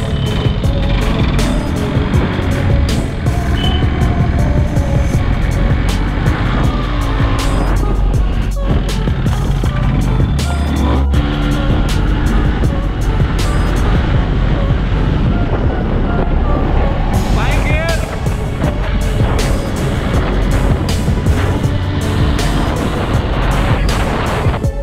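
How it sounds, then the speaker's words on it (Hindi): A 20-year-old Yamaha RX 135 motorcycle is kick-started and runs, its two-stroke engine loud and close, with rough continuous revving and some speech underneath. "पर मैं जैसी किक मार रहा हूँ स्टार्ट हो रही है।"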